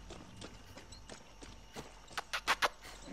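Horse hooves clip-clop at a steady walking pace in the video game Far Cry 6, faint at first, then a few sharper, louder hoof strikes near the end.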